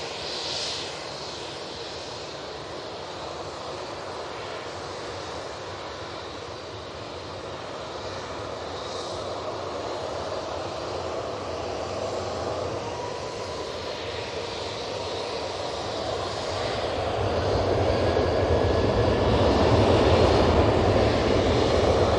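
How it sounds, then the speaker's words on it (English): An Aer Lingus ATR 72 turboprop touching down at Manchester Airport, a steady engine drone that grows louder toward the end, with no talking. "there's the Aer Lingus touching down, ATR 72"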